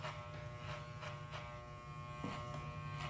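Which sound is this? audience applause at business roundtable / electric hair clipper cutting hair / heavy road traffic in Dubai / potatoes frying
electric hair clipper cutting hair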